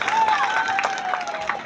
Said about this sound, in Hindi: मैं चाहूँगा जोरदार ताली से उनका स्वागत करें